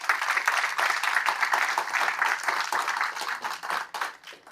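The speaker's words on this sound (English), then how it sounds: "So give them a round of applause" An audience at the Chicago Pipe Show applauds the Chicago Pipe Club, dense crackling clapping from a crowd that holds steady for several seconds and then thins out near the end.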